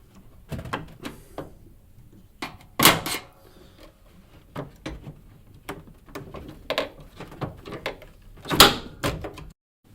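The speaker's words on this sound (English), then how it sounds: "just use a screwdriver or blunt instrument just to pop them out" Plastic clips on the detergent dispenser housing of an LG washing machine popped loose with a screwdriver, giving a series of sharp close clicks and snaps scattered unevenly, with two louder cracks standing out, no talking.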